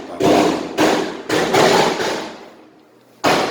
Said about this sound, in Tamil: இந்த பட்டாசு வெடியிலும்